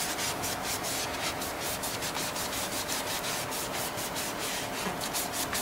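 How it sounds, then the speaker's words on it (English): Steady scrubbing of a metal surface wetted with PreWow cleaning solution on a G35, a continuous close rubbing hiss with a fast back-and-forth rhythm, heard alone. "Just keep scrubbing on it."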